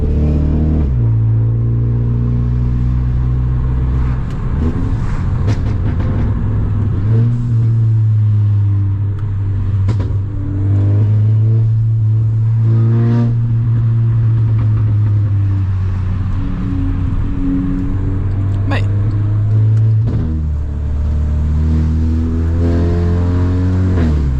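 A Volkswagen Scirocco engine revs and drones loudly up close, rising and falling, with sharp exhaust pops and bangs crackling between the revs.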